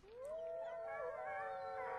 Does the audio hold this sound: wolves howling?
yes